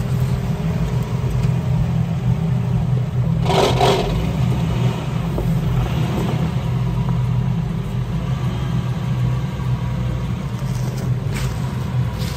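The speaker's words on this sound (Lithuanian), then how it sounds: "Jeigu automobilis į priekį pavažiuoja" A damaged American hybrid car creeping forward slowly, heard as a steady close low rumble with faint mechanical clunks and a brief scraping burst partway through, no voices.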